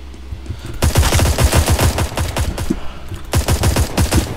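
Rapid pistol gunshots from a Roblox 1v1 pistol shooting game crack in quick loud bursts, a long string followed by a short pause and another volley.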